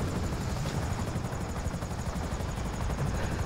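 Steady, loud attack helicopter rotor thumping in GTA V Online, with a dense engine roar, continuous throughout and close by.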